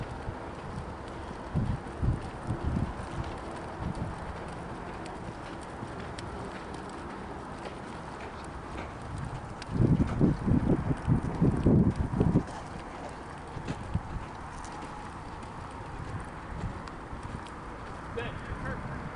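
Horse hooves clip-clop at a hand gallop in repeated rhythmic bursts, moderately close, with wind noise and people talking through most of it.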